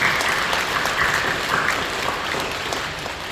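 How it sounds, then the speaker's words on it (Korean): Thick, sustained applause fills the sanctuary as a congregation at a Full Gospel church in Incheon claps together during an Advent Sunday service. The clapping stays steady and loud throughout, slowly easing toward the end. "우리 사랑하며 박수해 주시죠."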